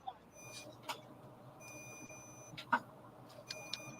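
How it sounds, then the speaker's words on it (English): Faint electronic beeping tones sit steadily in the background, with a few scattered clicks and soft low rumble throughout. "Actually, yes, I do hear beeping now."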